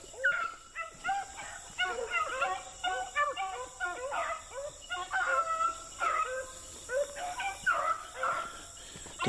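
A pack of beagles baying in a swamp while chasing a rabbit, dense overlapping howls and yelps in an uneven chorus, moderately loud and continuous.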